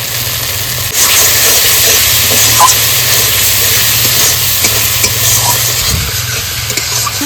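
Spice paste for a rohu fish curry sautéing in a pan, a loud continuous hiss and sizzle close up, with occasional clinks and stirring, no talk.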